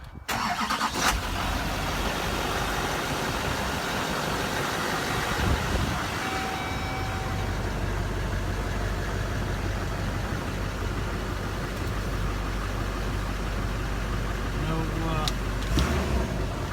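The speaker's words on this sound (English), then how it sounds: "Okay, we're just going to start it up." Chevy Kodiak truck with a Duramax diesel started and left idling, a low steady rumble running loud and constant, with a brief catch near the start and a few short clanks near the end.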